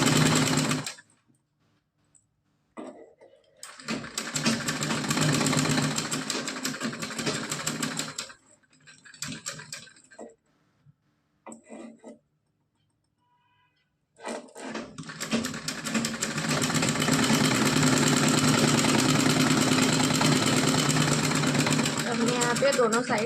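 A sewing machine stitches the seams of a small cotton night dress, running in long steady rattling bursts with short pauses between them, close and fairly loud, while someone talks over parts of it.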